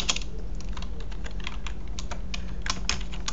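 Fast continuous typing on a computer keyboard, a close run of light irregular key clicks over a faint steady hum.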